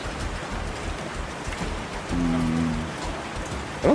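Steady loud rain ambience from the Primitive Society Simulator video game, a continuous wash of falling drops throughout, with a brief tonal hum partway and a sharp rising chirp at the very end.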